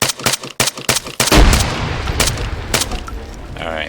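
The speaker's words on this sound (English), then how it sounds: "Throw a grenade." Gunfire and a grenade blast in a first-person shooter video game: a rapid string of sharp shots, then a heavy explosion with a long rumbling tail, and a few more scattered shots after it.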